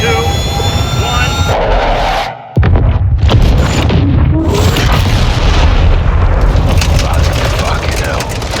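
Missile strike in the Modern Warfare 2 video game campaign: a loud, dense boom with jet-engine roar that cuts out briefly, then resumes as a sustained rumbling blast, with radio voices talking over it.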